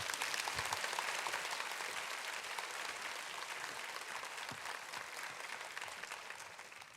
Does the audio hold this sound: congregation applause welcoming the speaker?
yes